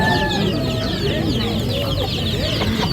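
A dense flock of chickens clucks steadily and loudly without pause, the calls overlapping, with low background noise underneath.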